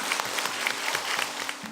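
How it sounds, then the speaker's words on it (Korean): Brief, moderately loud clapping from the audience at a National Assembly citizens' academy lecture on the Korean Provisional Government, with distinct individual claps over a low background. "과정을 열심히 함께해 준 세 분께 다시 한번 큰 박수 부탁드리겠습니다."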